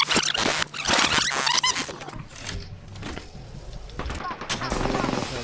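Rapid gunfire bursts in an Apex Legends gunfight, loud and close, with dense automatic volleys and sharp reports mixed with game effects and some speech-like sounds.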